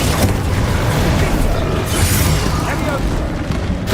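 Spell blasts and explosions in Hogwarts Legacy gameplay, a dense, loud, continuous rumble of booms and bursts with a voice shouting spell names over it.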